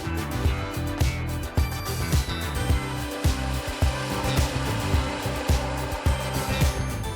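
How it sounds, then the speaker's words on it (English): A belt sander grinds low carbon steel in a steady, loud whir, broken by rhythmic bumps and scrapes as the metal is pressed to the belt again and again. "the steel has a low carbon content by the lack of sparks during the grinding"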